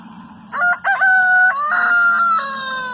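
A chicken crows loudly and close by, one long drawn-out call with a couple of short notes at the start.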